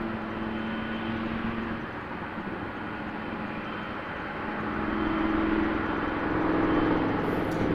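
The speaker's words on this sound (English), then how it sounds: "Triple 7-200 to Heathrow, and then we're getting a 777-300 lining up behind it." Boeing 777 airliner at Toronto Pearson Airport, a 777-200 bound for Heathrow with a 777-300 lining up behind, giving a steady broadband jet engine roar heard from a distance that swells slightly louder near the end, with no speech.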